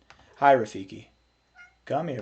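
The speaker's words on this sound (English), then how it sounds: "That's my cat, if you guys hear him." A pet cat named Rafiki meows at moderate volume between bursts of a man's speech calling to him.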